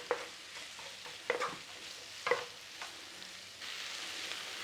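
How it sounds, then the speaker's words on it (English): Vegetables with a pinch of dried thyme sautéing gently in a pan for a wartime Woolton pie, soft low sizzle punctuated by a few sharp spoon scrapes and stirring knocks, fairly quiet and close. "just a little sauteing in there"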